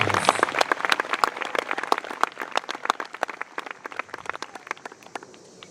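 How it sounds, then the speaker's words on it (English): Crowd claps for the Cypress Creek and Grove City Police Department at an outdoor marching band event. The applause is fairly sparse, with distinct individual claps throughout, fuller at first and thinning gradually. "Would you give Cypress Creek and the Grove City Police Department a round of applause?"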